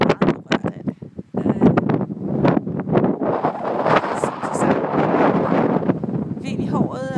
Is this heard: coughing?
no